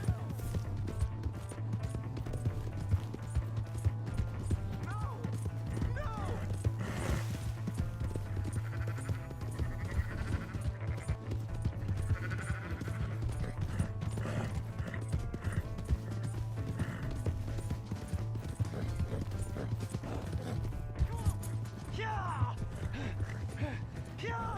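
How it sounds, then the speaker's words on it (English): Rapid hoofbeats pound steadily throughout, a horse galloping in Red Dead Redemption 2 beneath a low constant hum, with occasional faint voices in the game mix. "Hey, that's my horse!"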